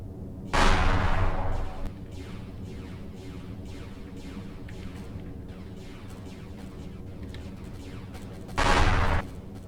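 Empyrion Galactic Survival space combat, with a loud burst of heavy weapon fire near the start and another near the end, separated by a steady rumbling drone and faint repeated shots.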